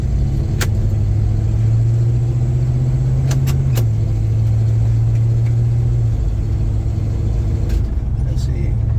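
Chevelle engine droning loudly and steadily at low speed with the pedal floored, holding one pitch then dipping slightly, with a few faint clicks over the constant rumble.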